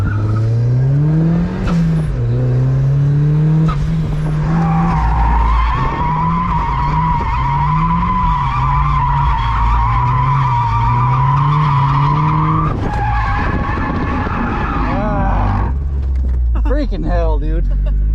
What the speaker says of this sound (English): I'll spin out now that you're gonna film.